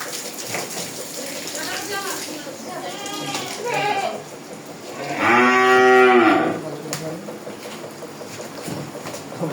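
A cow lows nearby during anthrax vaccination, with a few shorter calls followed by one long, loud moo, amid faint background noise.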